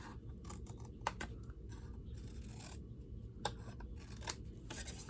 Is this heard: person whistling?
no